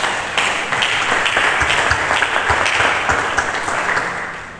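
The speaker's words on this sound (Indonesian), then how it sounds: "Berikan tepuk tangan bagi." A church congregation breaks into loud, sustained applause during a sermon, a dense wash of clapping with a few sharper claps standing out, fading slightly at the end.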